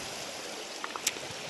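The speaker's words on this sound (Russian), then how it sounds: "Какой классный ручей." A cold mountain stream in Utah flows over pebbles with a soft, continuous rushing wash, a few small splashes and trickles popping out near the end.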